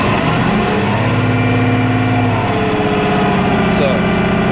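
A Cat bulldozer's diesel engine runs steadily at close range, a constant droning rumble with layered engine tones and no breaks throughout.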